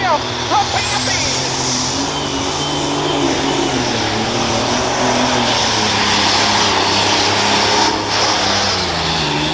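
A John Deere 8330 tractor pulls at the 2021 Hartford Fair OSTPA truck and tractor pull, its engine a loud, steady, droning roar with strong humming tones that holds throughout the whole stretch.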